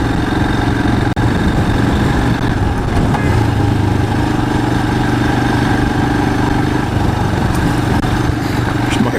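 A Royal Enfield Himalayan motorcycle engine runs steadily close by on an off-road gravel ride, a continuous loud rumble with no breaks and no talk over it.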